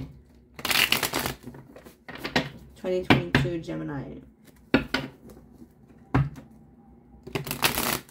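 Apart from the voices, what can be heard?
shuffling tarot cards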